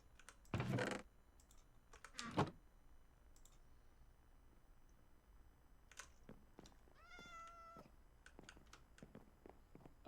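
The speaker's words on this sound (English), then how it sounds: "Okay, so I've got 3 cats trapped in here." Cats in the Minecraft Cobblemon video game give a drawn-out meow that rises in pitch, amid scattered clicks and taps of a computer keyboard and a couple of louder thumps near the start.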